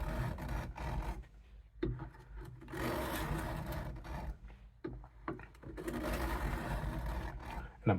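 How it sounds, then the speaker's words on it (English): Steel Case USMC knife blade pushed with firm pressure across a 200 grit coarse sharpening stone held in a vise, giving repeated rasping, scraping strokes in an uneven rhythm, close and fairly loud, with brief pauses between passes. "we're just going on that real coarse grit. It's 200 grit, as says on the stone."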